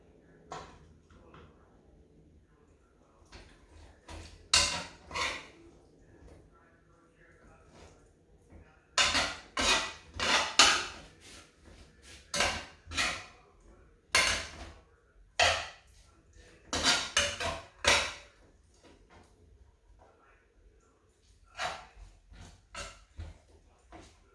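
Spaghetti being tossed in a frying pan, intermittent clattering scrapes and sizzling bursts of utensils against the pan in irregular clusters, close and fairly loud, with quiet gaps between.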